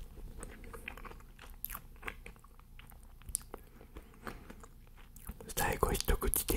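Someone bites and chews a cream puff (choux cream) close to the microphone, with soft, moist crunches and squishy mouth sounds that build into a louder, denser burst of chewing near the end. A faint whispering voice sits underneath.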